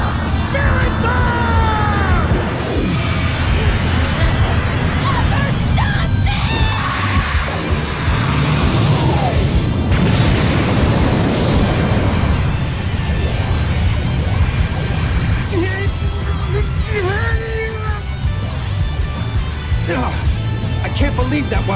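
Spirit Bomb attack in the Dragon Ball FighterZ video game, a long, loud barrage of crashing blasts and rumbling impacts, with character voices shouting over the explosions throughout.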